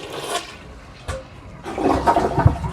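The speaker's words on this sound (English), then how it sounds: "I'm going to pour this down the toilet." A toilet flushes nearby after sink-clog goop is poured in, a short rush of water followed by a louder swirling, gurgling surge that keeps going.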